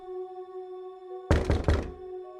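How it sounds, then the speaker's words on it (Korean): Knocking on a door in a horror-story setting: three firm, hollow knocks in quick succession, close and loud over a steady low droning ambience, with no talking. "밖에서 또다시 노크 소리가 들려왔습니다."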